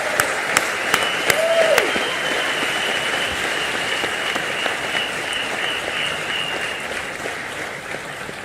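Audience applause at the Reliance AGM 2017 honoring Jio employees, a broad steady wash of clapping from a large crowd, moderately distant and sustained throughout, with a few sharper claps near the start.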